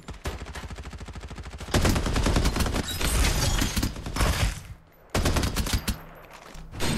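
Loud, rapid automatic gunfire in a battle royale video game, a fast steady burst of shots at first, then denser sustained firing with a short pause near the end before the shooting resumes.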